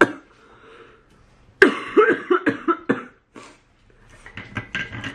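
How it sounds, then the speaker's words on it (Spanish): A woman gives a nervous cough, a burst of several sharp close coughs in quick succession followed by softer throat sounds and breathing. "Y encima es una tos nerviosa."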